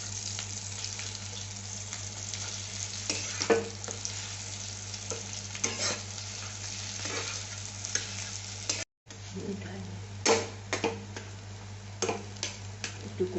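Boiled potatoes frying in a pan as potato paratha filling, a soft steady sizzle broken by scraping spatula strokes and occasional knocks against the pan, with a brief cut partway through.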